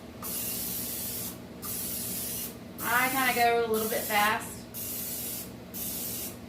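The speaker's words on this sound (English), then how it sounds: "find your butter spray, and then spray each of the tins" Short bursts of aerosol butter spray hiss in a steady rhythm onto muffin tins, with a person speaking briefly in the middle.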